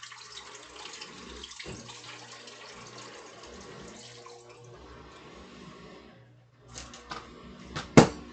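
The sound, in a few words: water pouring into a filter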